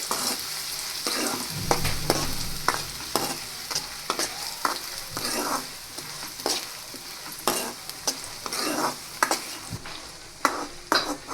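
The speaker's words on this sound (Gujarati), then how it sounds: "હવે આપણે ડુંગળીને થોડીવાર માટે ચડવા દઈશું" Onions and green garlic fry in a pan over a dense, loud sizzle, with frequent spatula scrapes and clicks against the pan throughout. No voices.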